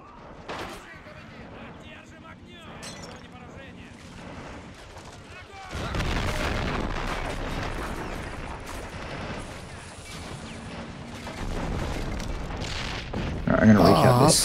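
Battle sounds from Men of War: Assault Squad, including booming cannon fire from an 80 gun hitting a tree, with heavy explosions swelling midway and near the end over a steady mix of gunfire and distant rumble.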